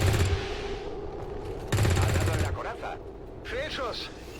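Soldiers' Overwatch reaction fire in XCOM 2 after enemies land: two loud broadband bursts of gunfire, each about a second long, with fainter game sounds between them.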